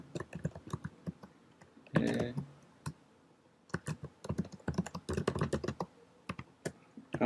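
Keystrokes on a computer keyboard while entering code commands, in quick irregular bursts of close clicks with brief pauses and one heavier clack of the Enter key, no voice over them.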